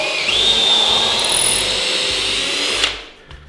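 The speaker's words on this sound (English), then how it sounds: "go ahead and drill a pilot hole" A power drill whines steadily while boring a pilot hole into wood, then cuts off abruptly, followed by a faint click; close and loud, no voices.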